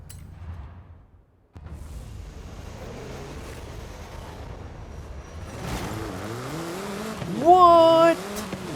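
Wild 1980s-style commuter hatchback turned rally race car with aero disc wheels in Forza Horizon: the engine revs rise and fall with gear changes under wind noise, climbing to a loud whining peak near the end.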